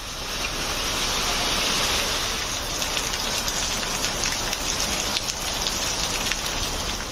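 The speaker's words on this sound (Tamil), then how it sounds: "புதுச்சேரி மாநிலம் காரைக்காலில் பல்வேறு பகுதிகளில் இரவு நேரத்தில் பரவலாக மழை." Widespread night-time rain falling across Karaikal in Puducherry, a steady, dense hiss of rain on surfaces that stays constant throughout, close and loud with no voices.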